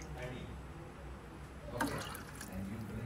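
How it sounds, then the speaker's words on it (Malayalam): Water mixed with a ground pepper and tulsi spice paste splashes as it is poured back into a pot for a cough remedy, a short liquid gush under ongoing talk. "ഞാൻ കുറച്ച് വെള്ളം ഇതിലേക്ക് ആഡ് ചെയ്ത് ഒന്ന് മിക്സാക്കി തിരിച്ചൊഴിക്കാൻ പോവുകയാണ്"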